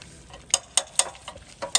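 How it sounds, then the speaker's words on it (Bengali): Spiced chicken sautéed in a pan for a rooftop winter cookout gives a quiet series of sharp clicks as a utensil taps the pan, about six irregular strikes over a soft background. "এটা এখন খুব ভালো করে কষা হবে"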